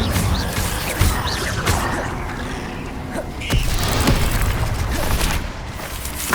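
In the video game Hogwarts Legacy, an Incendio fire spell goes off amid a dense rumble of booming whooshes and crackling bursts, loud and close, with repeated impacts throughout.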